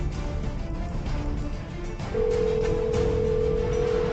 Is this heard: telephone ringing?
yes